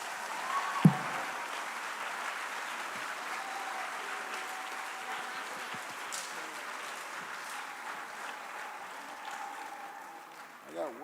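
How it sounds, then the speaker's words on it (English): Audience clapping for Gold Highest Honors Award recipients at a 12th grade academic awards ceremony, a steady broad wash of applause lasting throughout with one sharp knock near the start, fading slightly at the end. "a nice round of applause for our Gold Highest Honors Award recipients"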